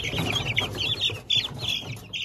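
Close, busy peeping and cheeping rises from two-week-old chicks gathered around a young Livenskaya chintz rooster at their feed, a dense overlapping chorus with short pauses and no speech.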